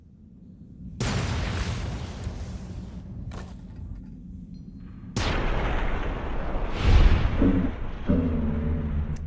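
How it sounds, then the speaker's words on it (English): Grenades go off against jackals in the Mojave in a Fallout game, with two or three loud, close booms and rumbling debris tails, then a short crackling rattle. "I got a sneak attack with a grenade on at least one jackal."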